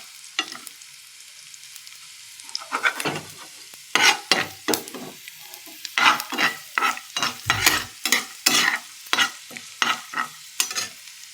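Garlic, green chilli and black cumin fried together in hot oil, stirred with quick, rhythmic scraping strokes over a soft sizzle, close and loud, with no talk.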